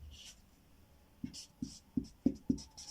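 A label being written by hand: a quiet stretch, then a handful of short, soft pen strokes tapping and scratching in a quick series, close and faint.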